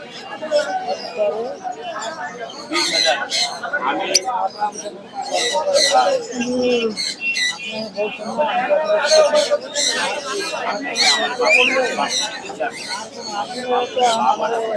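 Small caged birds chirp and twitter at the Mirpur bird market in Dhaka, bright calls scattered throughout while people talk close by and a crowd murmurs.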